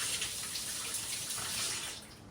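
Tap water runs steadily and close while a spoon is rinsed under the stream, a continuous hissing splash that eases off slightly at the end.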